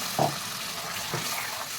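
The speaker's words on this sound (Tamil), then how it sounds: "கொஞ்சமாக தண்ணி ஊற்றிக்கலாம்." Water is poured into ground masala with frying mutton for a mutton curry: a short close splash, then a fainter second trickle, with no talk.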